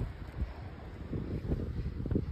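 Strong gusting wind buffets the microphone outdoors on an alpine tramping track near a small waterfall and glacier, a continuous low rumbling roar that swells and surges in uneven bursts with no talking.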